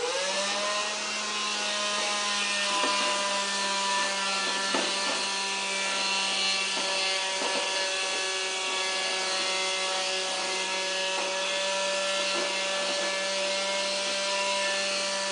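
A handheld Dustbuster vacuum cleaner runs steadily and close by with a constant high whine and a few brief bumps and scrapes as it is moved around.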